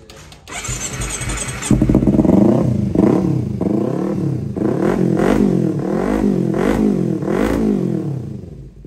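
A used motorcycle with about 60,000 km on it being checked at a village dealer. The engine starts, idles briefly, then is revved repeatedly in rising and falling bursts, loud and close.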